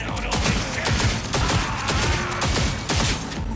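Rapid bursts of gunfire from a weapon in the video game Cyberpunk 2077, loud, dense and continuous across the whole stretch, with repeated sharp shots stacking into a steady barrage.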